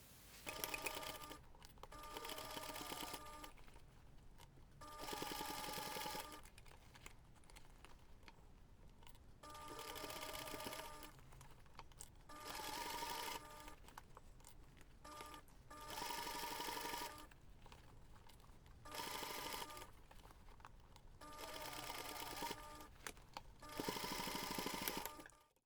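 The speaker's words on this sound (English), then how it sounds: "take this to the machine and sew the seam" Bursts of sewing machine stitching come up close and fairly quiet as a side seam is sewn on a small reindeer pouch, the motor starting and stopping several times with short pauses between runs.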